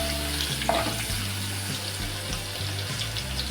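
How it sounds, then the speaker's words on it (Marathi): Garlic added to cumin seeds in hot oil, a steady close sizzle with a low background hum and small spatula clicks. "जरा परतून घेऊया आपण."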